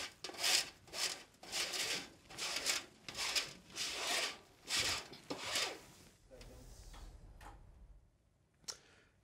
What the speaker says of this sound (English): I'm going to use my bowl scraper and just press the dry ingredients